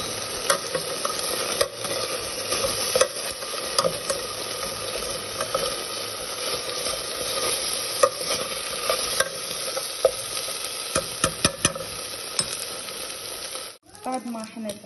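Garlic cloves frying with boiled meat in a pot, a steady close sizzle with repeated stirring scrapes and clinks, ending in a brief rattle.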